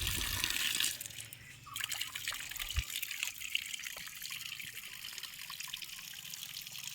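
Cold, clear natural mountain water flowing in Himachal Pradesh, a steady close trickle and gush that continues without a break, with a brief louder splash partway through.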